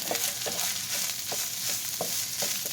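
A spoon stirs a cup of hot cooked rice for stuffed bell peppers, giving soft rhythmic scraping strokes roughly every half second over a faint background hiss, quiet and close.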